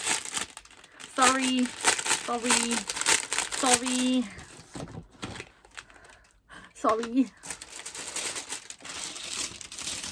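A plastic packet crinkles and rustles as it is opened, in short bursts of crackling close to the microphone, while a person talks and hums over the handling sounds.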